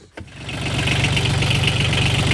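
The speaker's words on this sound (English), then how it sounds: "So we just started the machine up" A Bobcat side-by-side engine cranks briefly, catches, and settles into a steady, throbbing idle close by, its rhythmic low pulse holding loud to the end.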